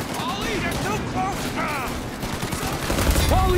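Video game gunfire crackles in quick bursts of shots amid game noise, while people talk excitedly over it.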